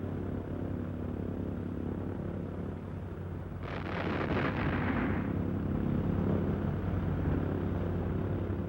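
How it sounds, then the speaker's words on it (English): Laser-guided bombs hit their targets with a sudden heavy explosive burst partway through, rolling into a long rumbling roar over a steady low background drone. "using the pinpoint accuracy of laser-guided bombs to hit its targets"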